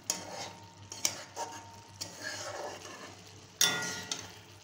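A spicy egg curry masala sautés in a pan with a soft, close sizzle, broken by scraping stirs and a few sharp clangs of a utensil against the pan.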